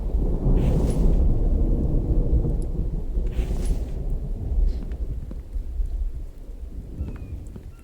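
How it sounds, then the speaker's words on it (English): A thunderstorm in the video game The Infected rumbles with heavy, continuous low thunder and steady rain, loud and enveloping throughout with no talking. "Big old storm coming now."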